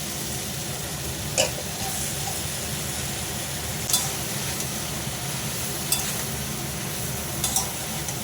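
Shrimp sizzle in a pan of spiced fried potatoes and ridge gourd, a steady close frying hiss with a few light clinks of a spoon stirring.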